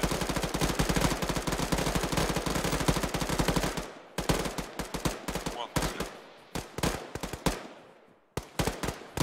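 Sustained automatic gunfire suppresses bunkers in a military video game: a dense, rapid stream of loud shots for several seconds, then shorter bursts and single cracks separated by brief pauses.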